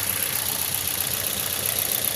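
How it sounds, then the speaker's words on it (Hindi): A car engine with a misfire idles steadily up close, a continuous rough mechanical hum with no talking over it. "ये इंजन वाइब्रेट करने लगी है"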